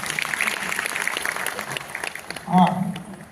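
Scattered audience clapping rises at a community cultural program, running beneath a speaking voice with a louder, brighter burst near the end.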